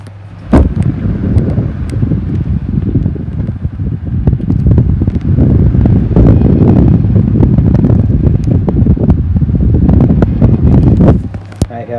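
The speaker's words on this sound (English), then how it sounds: "Listen about how the CED is more noisier, and the pifco sounds better, even." A 12-inch electric fan, either a 1960s Pifco or a 1990s SMC, runs with a loud steady whooshing drone. Brief knocks mark the start and end, and a person talks faintly over it.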